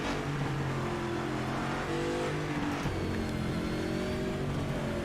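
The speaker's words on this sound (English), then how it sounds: "Listening to the engine, it doesn't sound too bad" Classic car engine revving at a car cruise-in in Nashville, a rising and falling throaty engine note heard close amid outdoor background noise, with a few rev swells and no talk.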